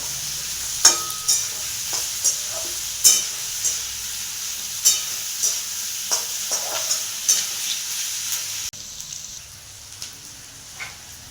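Onions sizzle steadily in hot oil as a utensil stirs them in a pan for a masala gravy, with close, regular scraping knocks over the continuous frying hiss, which drops quieter near the end.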